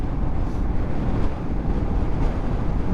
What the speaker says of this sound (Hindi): तो दोस्तों इतनी तेज़ हवा है यहाँ पे, इतनी तेज़ हवा है कि गाड़ी भी बैलेंस नहीं हो पा रही है